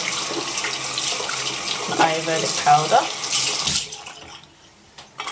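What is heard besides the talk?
water running, rinsing Ayurvedic powder paste off hair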